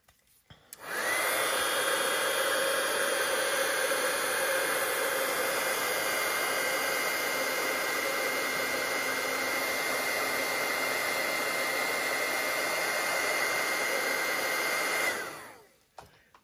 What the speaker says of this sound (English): I am going to use the heat tool just to make sure all the ink is dried